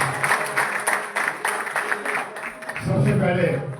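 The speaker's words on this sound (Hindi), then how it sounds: "जोरदार तालियों के साथ स्वागत करें।" Audience applause welcomes guests at a formal Hindi-language public event, with a loud announcer's voice over brief clapping that swells near the end.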